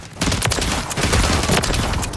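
Rapid gunfire in an online shooter game, a dense close burst of repeated shots rattling continuously for about two seconds with no pauses.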